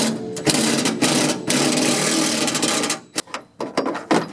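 A power driver spins out Torx T30 screws holding a truck bed liner, with a sustained whirring burst followed by shorter stop-start bursts of buzzing, close and loud.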